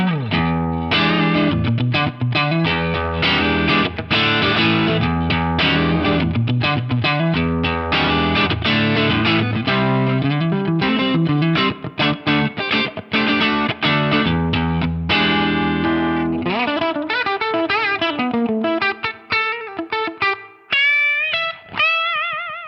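A Fender Stratocaster electric guitar, played clean, plays a run of strummed chords and quick picked notes, ending on a few ringing single notes that fade out.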